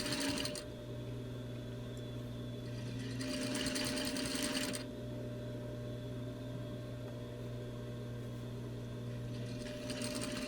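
A sewing machine stitching a fabric face mask hums steadily with a low motor drone, its needle rattle rising in two louder bursts of stitching before settling back to a quieter run.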